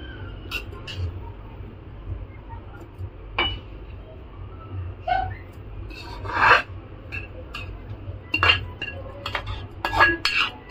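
Vegetables being mixed together in a pot for a vegetable biryani, with repeated scraping and clinking of a spoon against the metal, in irregular bursts, close by over low background noise.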